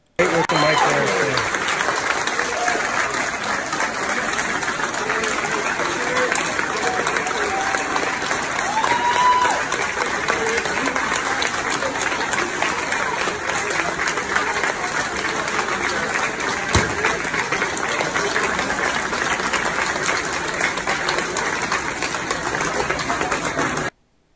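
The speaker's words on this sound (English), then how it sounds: "they got a big applause" Sustained crowd applause at a political rally, steady and dense for over twenty seconds, heard loud and continuous with a mechanical rattling texture running through it.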